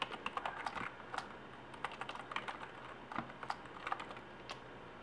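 Quiet typing on a computer keyboard while entering commands to unlock a Verizon HTC Droid DNA bootloader, a close, irregular patter of soft key clicks in short runs.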